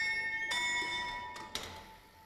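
A church bell at the Carthusian monastery of Serra San Bruno tolls a few strokes for the evening Angelus, each ringing out with a lingering tone in a quiet space.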